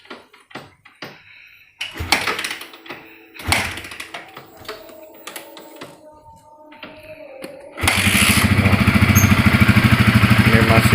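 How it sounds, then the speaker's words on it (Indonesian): A 2014 Yamaha Vixion motorcycle is kick-started with a few clanking strokes of the kick lever before the engine catches and settles into a loud, steady running rumble close by. "Kita nyalain dulu, kita coba engkol."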